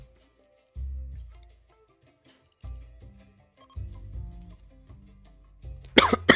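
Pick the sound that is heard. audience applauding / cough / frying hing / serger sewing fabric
cough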